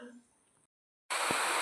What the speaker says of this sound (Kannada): ಜೋರು ಮಳೆ ಬರ್ತಾ ಉಂಟು ಫ್ರೆಂಡ್ಸ್.